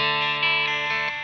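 A G&L S500 Strat-style electric guitar played through its bridge pickup rings out with a bright, sustained tone carrying effects coloring, close and fairly loud, with no talk.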